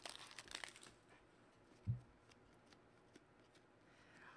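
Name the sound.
opening Upper Deck hockey card pack wrappers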